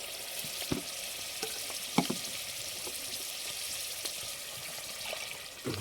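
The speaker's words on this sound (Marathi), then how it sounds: "टाकून दिलं थोडं पाणी" Hissing sizzle from a hot cooking pot of mutton curry as water is added, a steady bubbling fry with a few sharp clanks of a utensil against the pot, at a moderate level with no speech.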